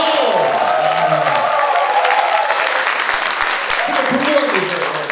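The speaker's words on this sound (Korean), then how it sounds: "저 박수 한번 좀 부탁드리겠습니다" A studio audience at a Korean talk show breaks into sustained applause, broad and steady clapping with a few cheers mixed in, continuing throughout.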